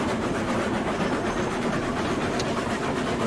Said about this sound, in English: this train can pull double duty, doing more than one thing